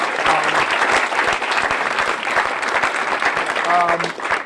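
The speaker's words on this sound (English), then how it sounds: "So round of applause for Eric Weiss." Close, dense clapping from a summit audience rises for Eric Weiss, with a few voices and cheers mixed into the applause.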